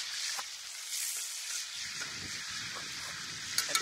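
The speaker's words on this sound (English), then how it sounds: "Look at that deliciousness frying up." Beef burgers sizzling and crackling in a hot pan outdoors in the Newfoundland wilderness, a steady close hiss with occasional pops and a brief scrape near the end.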